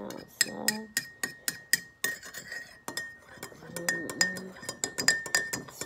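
Spoon clinking against a tea cup while stirring, a quick run of bright close taps with short gaps, with faint handling noise between them.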